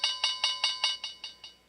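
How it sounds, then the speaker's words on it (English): A bell is struck eight times in an even, quick rhythm during a trading and investing broadcast, each bright metallic ring decaying briefly before the next strike, clear and close with no talking. "Let's ring the bell."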